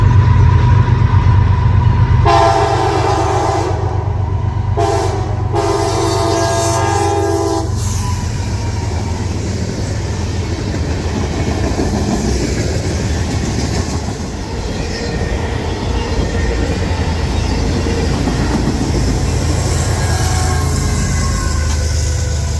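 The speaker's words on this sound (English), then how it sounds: "It wouldn't be until May 27th that I caught CSX M268 heading east with CSX 1982 leading solo and CSX 3194 in the middle of the train." CSX M268, an eastbound freight train led by CSX 1982 with CSX 3194 mid-train, sounds a loud horn in several blasts, then its cars rumble steadily past nearby with rail clatter and faint wheel squeal.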